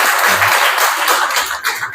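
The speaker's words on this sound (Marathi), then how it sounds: "सगळ्यांनी टाळ्या वाजवा." A crowd at a gathering claps briefly in a loose, close burst of hand claps, fairly loud, with a few low thumps mixed in.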